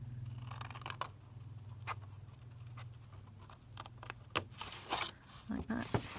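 Scissors snip through paper to form an envelope flap on a fold-up journal pull-out, a few short crisp cuts near and fairly quiet over a low steady hum, with faint speech in the background.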